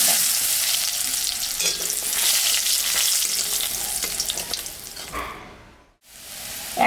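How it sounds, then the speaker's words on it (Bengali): Panch phoron spices tempering in hot oil for a spinach and parshe fish ghonto, a steady loud sizzle with stirring that cuts out briefly near the end before resuming. "শাকে আমি পাঁচফোড়ন সম্বরা দিলাম"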